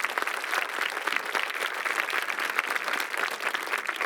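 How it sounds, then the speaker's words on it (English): A crowd applauds at a high school graduation ceremony, steady dense clapping that carries on evenly throughout without a break. "Yes, we can give a round of applause for that."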